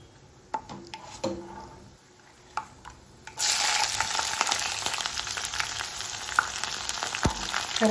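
Onions and chillies dropped into hot oil already holding cumin, mustard seeds, urad dal and peanuts for wheat rava upma: a few sharp clinks and taps, then a sudden loud sizzle that keeps crackling steadily close by.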